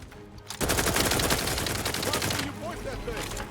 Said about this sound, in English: Dude, this gun just does so much damage.